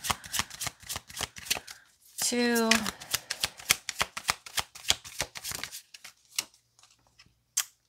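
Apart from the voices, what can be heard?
shuffling tarot cards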